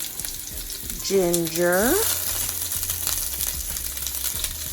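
Onions, ginger and other aromatics hit hot oil in a pan and burst into a loud, steady sizzle that keeps frying for several seconds, with a brief tonal squeal near the start.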